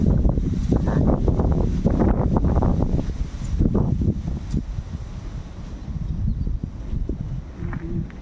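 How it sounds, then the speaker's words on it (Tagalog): Strong wind gusts roar across a microphone outdoors, loud buffeting rumbles in the first few seconds easing to a steadier, softer rush with light rustling of a pomegranate plant. "Sobrang hangin guys."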